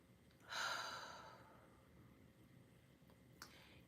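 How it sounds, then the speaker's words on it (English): A single deep breath, an inhale and exhale during a calming tapping exercise, rises as a soft airy whoosh and fades slowly into quiet room tone. "Deep inhale, exhale."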